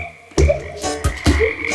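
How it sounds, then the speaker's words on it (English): Frogs croak in a kids' sing-along setting, three loud, low, throaty calls spaced about half a second apart, close and alone with no talk. "Can you hear the frogs?"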